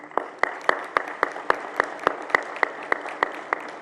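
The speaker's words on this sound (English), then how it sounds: "You all deserve to have a round of applause as well." An audience applauds during a lead-safe home summit keynote, a steady wash of clapping with sharp individual claps standing out roughly every quarter second, moderately loud and without speech.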